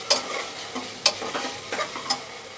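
Khichuri masala with salt and turmeric stirred in a pan, a spoon scraping in several distinct strokes over a soft sizzle, close and alone with no voices.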